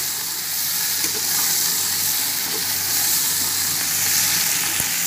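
Biryani base for Sindhi biryani browning in a pot, giving off a steady, dense sizzle and hiss that carries on unbroken and close by, with a faint tap near the end.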